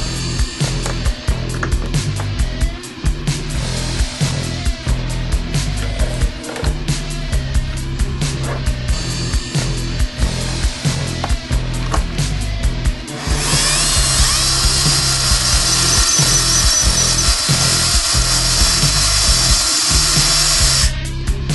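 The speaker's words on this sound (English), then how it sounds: "Wilson case trimmer, homemade power adapter," A Wilson case trimmer for .50 BMG brass, driven by a motor on a homemade power adapter, whirs steadily with repeated rhythmic knocks and grinding, then turns to a louder, harsher continuous grind halfway through.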